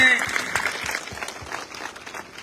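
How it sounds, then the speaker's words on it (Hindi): A short burst of applause at a political public rally welcoming Rahul Kaswan, with a voice over the clapping at first before the claps thin out into a few scattered ones. "जोरदार तालियों से एक बार आप सबकी तरफ से स्वागत की"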